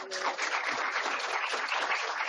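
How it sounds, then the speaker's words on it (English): A conference audience at a resilience congress applauds steadily, dense clapping from many hands filling the room without a break for a couple of seconds. "everyone deserves a round of applause for Steve"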